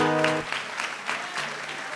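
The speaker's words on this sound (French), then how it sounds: "On l'applaudit." Brief applause from an audience at an evening worship and praise gathering, a short burst of clapping that follows a fading sustained musical tone at the start.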